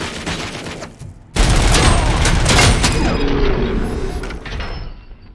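Gunfire in the RoboCop: Rogue City video game: a sudden, loud burst of rapid shots with a heavy boom and mechanical clatter, then ringing echoes that taper off over several seconds.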